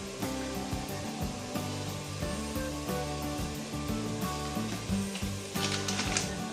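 Crab curry masala sautéing in hot oil, a steady close sizzle and fry with stirring scrapes and a brighter hissing burst near the end, no talking.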